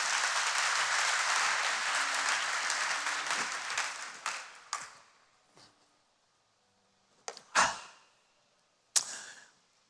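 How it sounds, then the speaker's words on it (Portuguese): Applause at a church service fills the first four seconds as a dense wash of clapping from the congregation, then thins to a few scattered claps and knocks before fading into near silence. "dê uma melhor salva de palmas."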